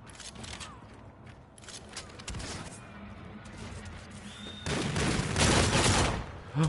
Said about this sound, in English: Pull out the shotgun on this gun.